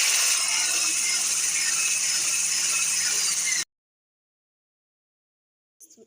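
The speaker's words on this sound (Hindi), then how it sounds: "लेकिन अभी मैं इसको और ब्लेंड करूँगी।" An electric blender whips cream, running steadily and loudly with a dense mechanical whir for several seconds, then cuts off abruptly into silence, with a brief faint noise near the end.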